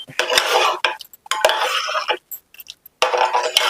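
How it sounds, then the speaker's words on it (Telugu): Sorghum (jonna) rava cooking in a pot is stirred with a metal spoon, making bursts of loud scraping and clinking against the pot that stop and start, close by. "ఆ రవ్వ పోసేయంగానే మనం కలుపుకోవాలండి, లేకపోతే అది ముద్దలాగా అవుతుంది"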